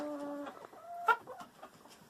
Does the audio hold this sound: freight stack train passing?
no